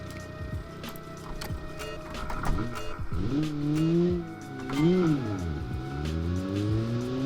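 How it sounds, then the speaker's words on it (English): The Synergy, a low-powered convertible sport budget car from 1966 Automation trials, revs and shifts on a track, engine pitch climbing and falling with gear changes and some tire noise, while a voice talks over it. "next up we have the Synergy, our convertible sport budget car, ready to hit the track"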